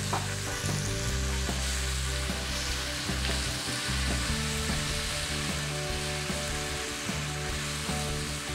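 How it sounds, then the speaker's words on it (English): Onions, garlic and MSG sizzle steadily in a hot wok while being stir-fried for beef chow mein, a loud continuous frying hiss with occasional scraping stirs and no talking. "After you've fried the onions for a bit, you want to put a tiny bit of garlic in."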